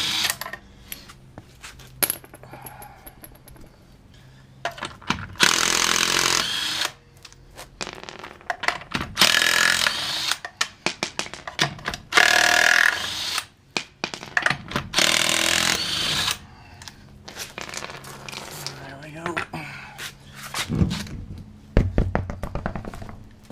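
Impact wrench bursts breaking loose lug nuts on a Ford Ranger during a suspension overhaul, several loud separate rattling blasts of a few seconds each between clanks of tools and metal in a garage.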